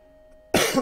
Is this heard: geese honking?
no